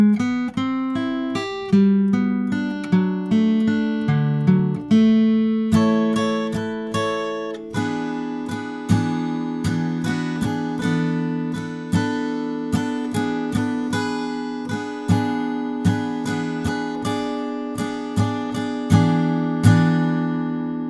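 Acoustic guitar strumming and picking the second bridge section of a song, a steady, bright, rhythmic pattern of chords and single notes played close and clear with no talking for about twenty seconds.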